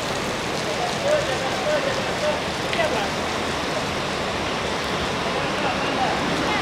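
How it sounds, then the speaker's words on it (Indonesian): Rain falls steadily outside a bus terminal in a constant dense patter and hiss, with someone talking over it and faint traffic sounds in the background. "Ini cuacanya lagi hujan cuy."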